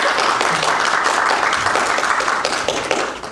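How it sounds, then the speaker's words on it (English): Audience applause at a convention panel on voice acting, a dense, steady burst of clapping from a sizable crowd that continues throughout and eases off slightly toward the end. "Give him a little applause, please."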